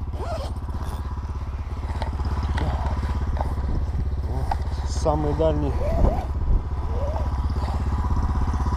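A PROMAX SRX 700 snowmobile engine idles steadily to warm up on a frozen lake during winter night ice fishing, a constant close low drone with someone speaking briefly over it.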